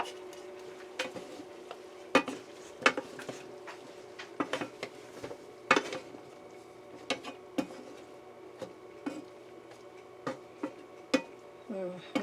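Pork and vegetables being stirred in a pot, with irregular metallic scrapes and clinks of a utensil against the pot over a quiet low hum.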